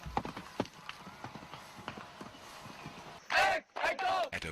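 Horse hooves clip-clop at an irregular walking pace during riding by military cadets, sharp and fairly close, followed by someone speaking loudly near the end.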